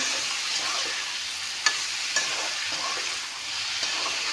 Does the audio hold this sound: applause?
no